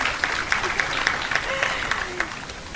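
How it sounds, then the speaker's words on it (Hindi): An audience at an academic Vedic science event claps along, producing a soft wash of applause with distinct, regularly spaced louder claps in a steady rhythm, fairly faint overall. "आप जम के ताली बजाइए"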